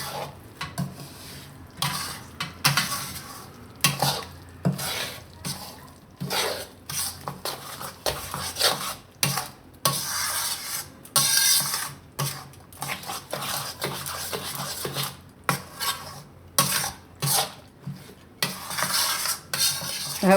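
A spoon mixing adadiya lachko mixture in a metal pan, repeated scraping and clinking strokes in an irregular rhythm, close and moderately loud with no speech.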